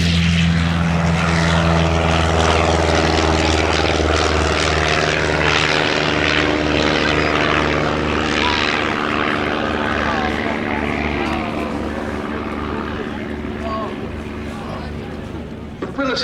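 Propeller engine of a 180-horsepower aerobatic display aircraft drones loud and steady at an airshow, its pitch shifting slightly as it manoeuvres, with a voice speaking over it.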